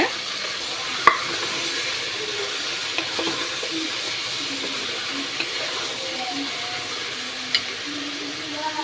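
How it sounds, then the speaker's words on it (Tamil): Vegetables such as ash gourd and raw mango sautéing in sesame oil in a pan for Tirunelveli-style idi sambar, giving a steady soft sizzle with a few light clicks of stirring throughout. "எல்லாத்தையுமே நல்ல எண்ணெயில் கொஞ்சம் வதக்கி விட்டுப்போங்க"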